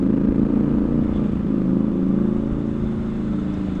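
Triumph Scrambler 1200 XE motorcycle engine fitted with a new exhaust, a loud, steady close-up rumble that holds a deep even idle throughout with no talking.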